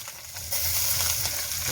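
Crushed shallots tossed into a hot pan for a village-style crab masala, bursting into a loud, steady sizzle that jumps up partway through and holds close and continuous.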